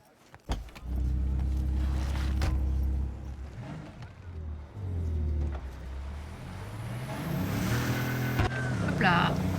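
A car engine revs and drives in the video game Cyberpunk 2077, the motor droning loud, dipping and rising again as the gears shift, with a few thumps and a rising whine near the end; a voice talks over it.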